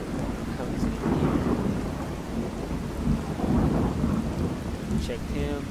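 Steady rain and rolling thunder from a thunderstorm in Fallout 4 fill the scene, with deep rumbles swelling and fading over a constant broadband downpour.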